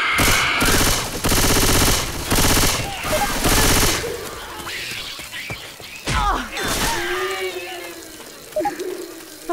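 Gunfire in the Left 4 Dead 2 swamp, with incendiary ammo fired in loud bursts of rapid automatic shots, followed by scattered single shots, splashes and in-game clatter, with voices breaking in at times.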